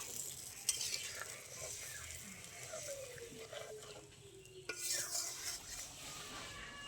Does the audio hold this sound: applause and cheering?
no